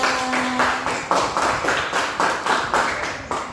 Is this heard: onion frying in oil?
no